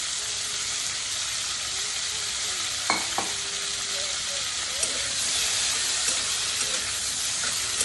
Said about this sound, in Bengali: তেলটা এবারে ভালো গরম হয়ে গেছে, এবারে মাছগুলো সব একসাথেই ছেড়ে দিচ্ছি